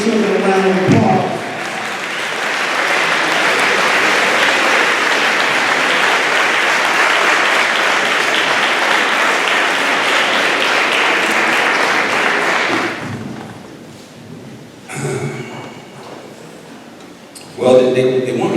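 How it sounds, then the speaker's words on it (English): A standing audience at a school farewell event applauds a group of children, with loud, sustained crowd clapping lasting about twelve seconds before it fades and a voice begins speaking. "You need to stand up and give these children a round of applause."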